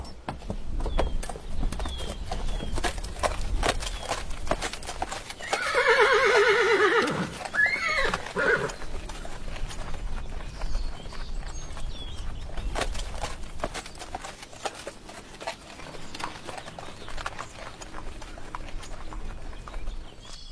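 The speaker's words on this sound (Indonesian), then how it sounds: "Kuda-kuda sedang dipersiapkan di pekarangan." Horses in a yard whinny loudly in one long neigh near the middle, with hooves clip-clopping and shuffling on the ground throughout, close by and with no talk.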